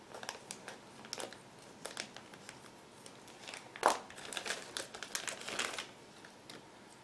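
A plastic bag of Tiger I tank model kit turret parts is opened: crinkling and rustling in short bursts, close by and fairly quiet, with one sharper crackle partway through.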